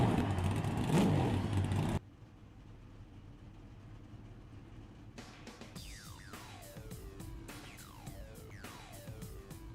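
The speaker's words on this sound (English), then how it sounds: "Drivers, start your engine." NASCAR race cars in the iRacing video game at Nashville Superspeedway: a loud burst of engine noise cuts off abruptly, then several cars roar past one after another, each engine note falling in pitch as it goes by.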